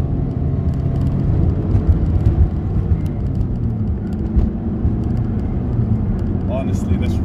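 A Toyota MR2 Mk3 Roadster (Spyder) powers out of a very tight corner on a twisty road, heard from inside the cabin as a loud, steady engine drone over constant road rumble.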